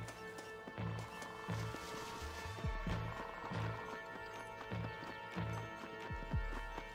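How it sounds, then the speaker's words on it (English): A mountain horse in the Red Dead Redemption video game clip-clops along at a steady trot, its hooves thudding in a regular rhythm over a faint game soundtrack. "so we got a mountain horse now"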